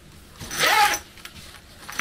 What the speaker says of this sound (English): And we've got another zipper on the inside one.